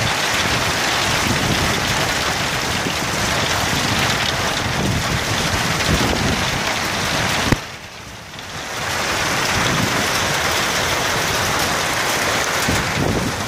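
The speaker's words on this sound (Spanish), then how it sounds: "Y llueve fuertemente en Siloé hoy" Heavy rain pours onto the roof of the Museo Popular de Siloé at night in a dense, loud, continuous roar that briefly dips for about a second before resuming at full strength.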